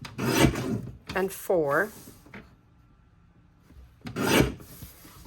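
Paper strip trimmed on a paper trimmer, two sharp rasping slices of the blade gliding along the track, separated by a quiet pause, with someone speaking briefly between cuts.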